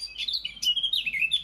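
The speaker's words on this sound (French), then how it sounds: "je vais vous laisser en compagnie de la fauvette à tête noire" A blackcap sings in a garden from a peach tree, giving a rapid, bright warbling phrase of varied notes, close and clear with no voices.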